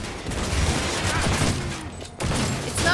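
Rapid gunfire in a Cyberpunk 2077 firefight, a dense, loud volley of shots that holds steady for about two seconds, breaks briefly, then picks up again.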